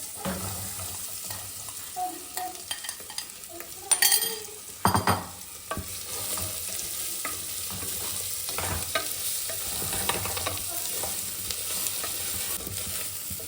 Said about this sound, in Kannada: ಎರಡು ಸ್ಪೂನ್ ಆಯಿಲ್ ಹಾಕಿ ಇದನ್ನು ಹಾಗೇ ರೋಸ್ಟ್ ಮಾಡಿ ಎತ್ತಿಟ್ಕೊತೀನಿ